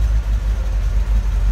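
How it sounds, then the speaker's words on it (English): Low, steady exhaust rumble from a 1948 Chevrolet Fleetline Aerosedan idling, its exhaust dumping near the rear axle; a close, loud, even burble with a slight pulsing and no talking. "Nice little rumble coming out of that."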